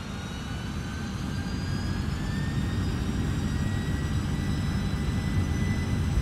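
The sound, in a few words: MD-11 jet engines at full power takeoff, flight simulator game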